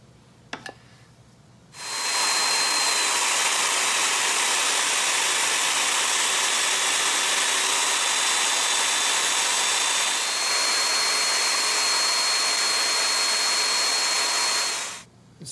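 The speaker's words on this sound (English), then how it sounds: "it's now time to cut the mortises in the top." A Festool joiner cuts mortises into the top of a wooden sawhorse, giving one loud, steady high-pitched whine that runs unbroken for about thirteen seconds after a few faint clicks, then stops abruptly.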